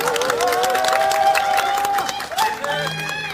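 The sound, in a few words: crowd applauding a welcome at a market press event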